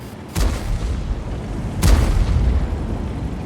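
Heavy American tank cannon firing in a tank video game, two loud booming shots about a second and a half apart over a constant rumbling engine drone.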